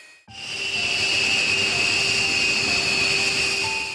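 A military jet engine, an F-16 powerplant such as the GE F110 or P&W type, roars up in a test facility after a brief quiet start, then holds a loud steady whooshing hiss with high whining tones.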